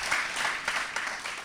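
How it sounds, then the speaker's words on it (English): An audience claps in a round of applause for the officers at a United Way of Bucks County community event, a steady broadband patter of many hands lasting only a moment, with no voices over it. "Quick round of applause for our officers."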